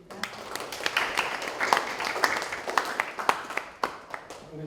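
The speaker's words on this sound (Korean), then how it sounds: "다시 한번 박수로 환영 부탁드립니다." An audience at a humanities lecture claps to welcome the lecturer, a dense patter of hands that stays fairly steady throughout, moderately loud and without talk.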